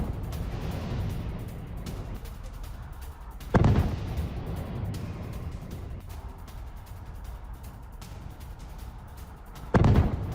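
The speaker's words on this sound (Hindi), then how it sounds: "पेट्रियट PSC-3 इंटरसेप्टर ने तबाह किया क्रूज मिसाइल" Patriot air defense interceptions over Kyiv, with two heavy booming blasts several seconds apart over a continuous low rumble, distant and echoing, and no voices.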